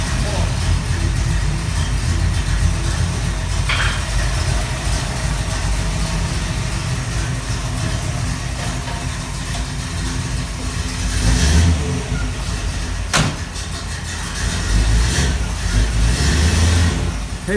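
Car engine with the idle speed set slightly off, running loud and steady, then revving up in a few surges toward the end, with people talking over it outdoors.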